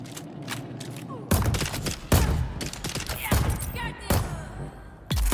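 Turret gunfire in the video game Dune: Awakening, a handful of sharp loud bursts at irregular intervals over a quieter ambient bed.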